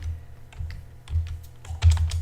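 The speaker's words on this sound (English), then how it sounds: "I'm going to just type it in" Quick bursts of computer keyboard typing, a few clusters of soft, close keystrokes with brief pauses between them, fairly quiet and without talk.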